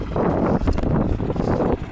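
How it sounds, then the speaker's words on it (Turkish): Wind buffets a camera microphone in an open farm field, a dense, rumbling roar that surges and dips for a couple of seconds with no voices. "Gene hafiften de bir rüzgar var burada. Kameraya geliyordur sesi de."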